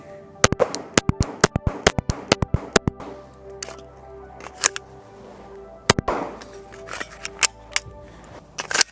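A Glock 17 Gen 6 pistol fires at a shooting range: a rapid string of loud, sharp, close reports, then slower, more spaced single shots.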